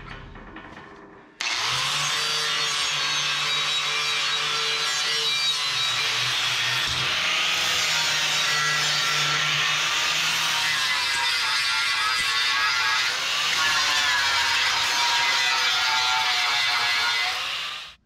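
A grinder works over steel parts for an FJ Cruiser frame reinforcement, starting abruptly and holding a loud, sustained abrasive whine for the rest of the clip, close up and steady.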